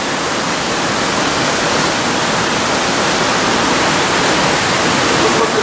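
Water gushes from springs near a stone bridge cave at Ponte de Pedra in Paraúna, Goiás, a loud, steady, broadband rush filling the whole span without pause.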